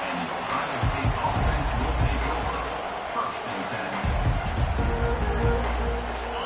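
A home stadium crowd roars at a college football game, a steady, dense wall of noise under continuous play-by-play commentary.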